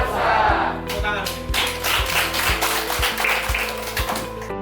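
A group at a PKW 2022 entrepreneurship training programme claps in a short patterned rhythm, crisp claps landing about once a second over background music, with voices mixed in.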